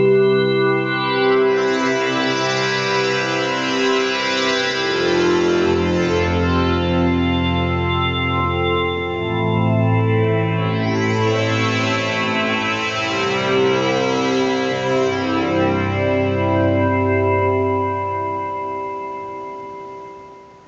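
A Korg King Korg synthesizer playing sustained chords with slow attack and long release, thickened by chorus and washed in hall reverb, two swelling phrases fading out at the end, no voices.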